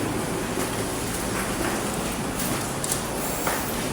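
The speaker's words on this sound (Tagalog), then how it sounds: "Umuulan." Steady, dense rain falling inside an abandoned hospital, a continuous close hiss with faint scattered drips and no talk.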